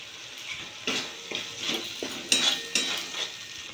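Spice paste with a little turmeric, nuts and ginger fries in oil, giving a soft sizzle broken by repeated scraping strokes of a spoon stirring against the pan.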